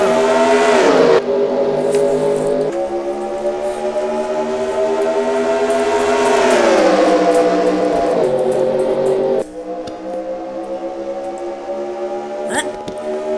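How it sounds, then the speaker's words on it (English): Race cars in a Lucas Oil Cup Series stock car video game race at Texas roar loudly together as the field accelerates to the green flag, a dense layered engine drone rising in pitch, then dropping briefly before surging again. "Alexander Jones, Andy Tran, lead the field to the green flag, as here we go"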